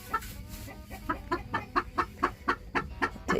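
Hens in a coop on a spring homestead cluck repeatedly, a steady series of close, rhythmic clucks at roughly regular intervals, with no talking.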